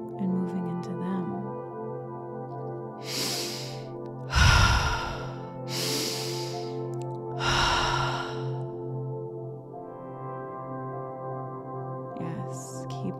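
Slow, deep breathwork breathing: several long, audible breaths in and out during a guided session, close and fairly loud over a steady ambient music drone, with quieter pauses between.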